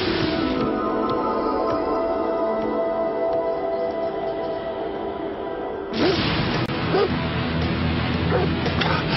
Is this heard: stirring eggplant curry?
no